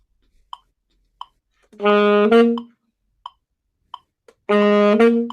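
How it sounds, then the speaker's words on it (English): Sharp, evenly spaced clicks tick alone, with two sustained harmonic tones sounding between them, the clicks landing off the main pulse. "it's when you put the metronome on the offbeat and you practice on the offbeat"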